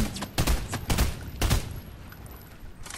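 Several loud bursts of video game gunfire in Fortnite, three heavy booming volleys about half a second apart followed by fainter rattling shots and fading echo.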